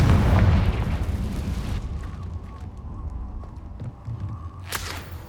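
The Confringo spell explodes in Hogwarts Legacy with a loud, deep boom that rumbles and fades over a couple of seconds, followed later by a short, bright burst.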